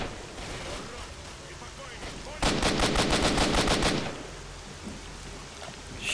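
Automatic gunfire in the video game STALKER, a dense burst of rapid shots lasting over a second, loud and close, set against a constant rain-like game ambience.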